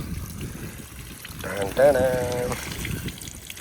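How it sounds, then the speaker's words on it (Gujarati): Water flows from a tap opened at a valve, giving a constant gushing rush throughout, while a person speaks over it in the middle. "જો પાણી આવે"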